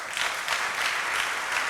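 An audience claps during a Hindi religious sermon, a dense, even burst of applause that holds steady throughout, with no voices over it.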